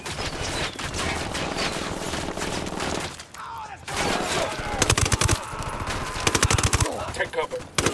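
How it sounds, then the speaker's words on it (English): Rapid automatic gunfire rattles in Ghost Recon Wildlands during an attack near an HQ building, with loud, dense bursts that pause briefly and then resume in sharp volleys, while voices talk beneath. "I heard a shot."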